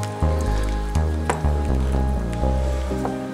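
Water poured into a cooking pot of pumpkin mango soup to loosen the stock stuck inside, a close, splashing liquid pour with gurgling bursts and no talking.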